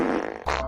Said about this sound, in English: Fart again?